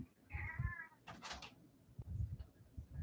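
A house cat meows to be let out, a drawn-out wavering cry up close, followed by a burst of broadband rustle or scraping, with low room rumble and handling noise throughout.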